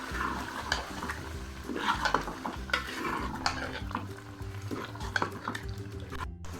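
Spinach and potatoes being stirred together in a pot for aloo palak, with a steady run of scraping and clattering spoon strokes against the metal close up, no voices.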